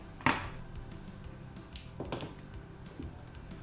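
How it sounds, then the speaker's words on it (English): Beef bones are dropped into a pot of boiled water for pho, one sharp clunk followed by a few softer knocks and clatters against the pot, fairly close and quiet. "So it's time to throw back the bones."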